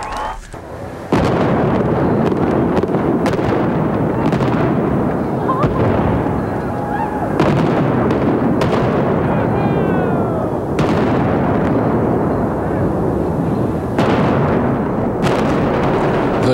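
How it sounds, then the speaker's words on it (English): The 1993 implosion of the 23-story Dunes Hotel on the Las Vegas Strip, preceded by a large fireworks show, comes across as a loud, continuous barrage of booming bursts and crackling blasts that rumbles on throughout, with voices faintly beneath. "The 23-story building was demolished last night following a pyrotechnic extravaganza"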